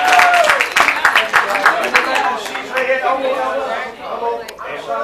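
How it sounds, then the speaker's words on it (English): Audience applause and cheering for two volunteers at a straitjacket escape show at Hudson County Community College, loud and dense throughout with a voice talking over it. "a big round of applause for my two volunteers"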